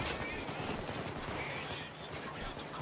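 Steady gunfire in Payday 2 on the Birth of Sky heist at Deathwish difficulty, with dense bursts crackling continuously through the whole stretch and a voice talking over them.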